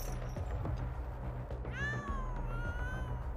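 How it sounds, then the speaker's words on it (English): Cat meowing in the anime Chainsaw Man, a single drawn-out meow rising then falling, heard clearly over a steady low background hum and soundtrack. "Meowing."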